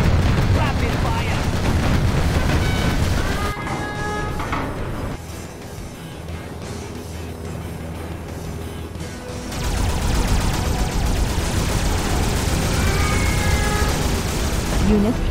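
Rapid automatic gunfire from the strategy game Shockwave rings out in dense, loud bursts, briefly easing in the middle before resuming at full intensity, with game voices occasionally heard over it.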